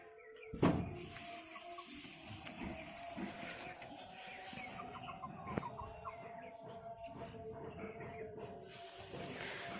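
A rooster held in someone's hands lets out a loud, close squawk near the start, then softer clucking and rustling over a steady background hiss.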